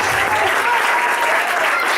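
Steady applause from a church congregation during an evangelical service, dense and continuous clapping throughout, fairly loud and close.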